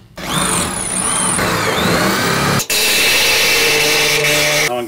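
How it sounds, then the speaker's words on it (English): A saw cuts out a rusty truck cab panel, loud close whining high-pitched buzz with shifting pitch, briefly cutting off and restarting partway through before running steadily again. "Got time to be playing around with that saw."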